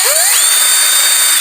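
A power drill spins up with a rising whine and holds a steady high pitch with a chainsaw sharpening file mounted in its chuck, loud and close, then cuts off abruptly.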